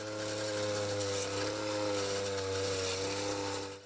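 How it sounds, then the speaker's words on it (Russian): A lawn mower drones steadily at a landscaped public site during an eco-volunteer cleanup, its engine giving a continuous even hum that holds through the whole stretch without pause, heard alone. "С раннего утра привычную тишину этого места нарушил гул газонокосилки"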